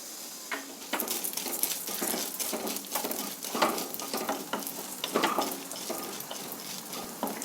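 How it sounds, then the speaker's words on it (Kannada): Chana dal and toor dal roasting in a hot pan, giving a steady dry sizzle with scattered crackles and scraping stirs, fairly close and with no talking. "ಇದು ಸ್ವಲ್ಪ ರೋಸ್ಟ್ ಆಗೋಕ್ಕೆ ಶುರು ಆದಮೇಲೆ ಉಳಿದ ಇಂಗ್ರೀಡಿಯೆಂಟ್ಸ್ನ ಸೇರಿಸ್ತೀನಿ ಬೇಳೆಗಳು ಫ್ರೈ ಆಗೋದಕ್ಕೆ ಟೈಮ್ ಜಾಸ್ತಿ ತಗೊಳ್ಳುತ್ತೆ"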